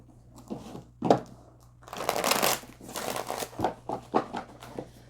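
A Rider-Waite tarot deck is shuffled by hand, with soft riffling bursts and papery card slides in uneven handfuls over a quiet indoor room hum.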